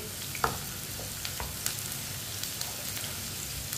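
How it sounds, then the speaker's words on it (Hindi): Finely chopped onion fries in oil with whole cumin over medium heat, a dense continuous sizzle with a few soft knocks of a spoon stirring, near and without voices. "प्याज को ऐसे ही चम्मच चलाते हुए पका लेंगे"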